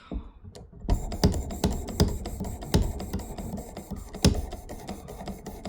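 A knife is drawn across an 800-grit abrasive on a Work Sharp Elite Precision Adjust sharpener, giving a run of sharp, regular rasping strokes close to the microphone.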